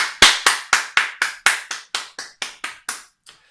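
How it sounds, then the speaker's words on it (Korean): Church congregation claps after a Sunday worship service, giving about a dozen close, crisp claps in a steady rhythm that gradually fade, with no talking over them. "우리 예배를 받으신 하나님께 영광의 박수 올려드립니다."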